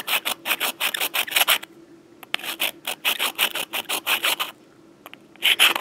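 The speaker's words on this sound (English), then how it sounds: "the sound that the file is making on the egg will actually change slightly. It begins to kind of rasp almost." Hand file rasping across a goose egg shell in rapid rhythmic strokes, close and crisp, in two bursts of back-and-forth scraping separated by a short pause, with no talking.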